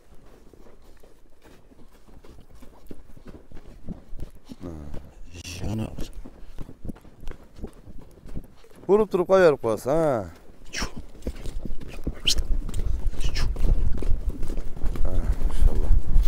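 Hooves of a horse clip-clop in an irregular patter on the ground while someone talks nearby, the steps growing louder and busier toward the end.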